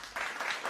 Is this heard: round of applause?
yes